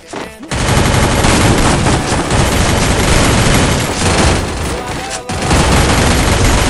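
Rapid bursts of gunfire from the Free Fire battle-royale game, played on an iPhone 8 Plus, fill the clip loudly and almost without pause, dense automatic fire with booming shots and a short gap near the end.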